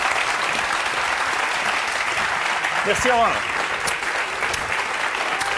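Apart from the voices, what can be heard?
studio audience applause on a TV quiz show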